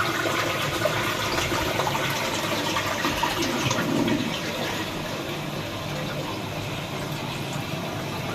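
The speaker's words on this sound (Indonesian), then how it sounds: "Nah, ini untuk buang, kalau ke bawah tuh buang airnya ya." Japanese toilet flushing, a steady rushing wash of water that stays loud for several seconds, then eases slightly as the bowl refills, close by and alone with no talk.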